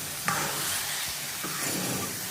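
Puran filling for puran poli being stirred as it cooks in a pan, a steady soft sizzle with occasional scraping strokes of the spoon, close and continuous with no talking.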